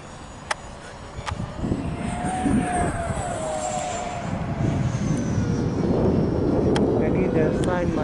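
A Freewing AL37 RC model airliner jet flies past outdoors on a breezy day with a steady ducted-fan whine that rises and holds, someone talking over it throughout, plus a few sharp clicks.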